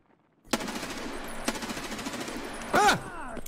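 M4A1 rifle in a video game firing a loud, sustained automatic burst for about three seconds, with a sharper shot and a harsher burst near the end.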